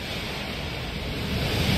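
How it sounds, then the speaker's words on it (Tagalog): Floodwater rushes around a house and its hut, a steady broadband roar close by that swells slightly toward the end, with no voices. "Baha na dito."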